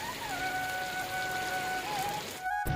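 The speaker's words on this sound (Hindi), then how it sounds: "घर आते ही इतनी जोर की शदीद बारिश हो रही है, आप देख सकते हैं।" Heavy rain pours steadily on a home's surroundings, a dense, continuous hiss close by with a faint tone running beneath it, cut off abruptly near the end.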